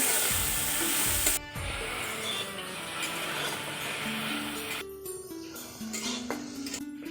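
Taro leaves fry in a pan with a loud, close sizzle that drops back after a sharp stir, then continues as a softer crackle broken by scraping and stirring clinks of a utensil against the pan.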